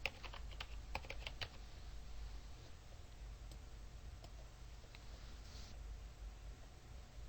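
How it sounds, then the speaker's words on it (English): Typing on a computer keyboard, faint scattered key clicks mostly early on over a steady low hum and hiss, with no talk. "Just type it in here."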